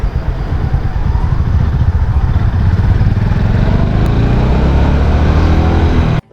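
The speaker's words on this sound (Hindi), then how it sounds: "अब करते हैं इस बाइक के फर्स्ट गियर की टॉप स्पीड चेक।" Honda CB 350 motorcycle pulling hard in first gear toward top speed, a loud, close engine note rising steadily for about six seconds with wind rumble before cutting off abruptly.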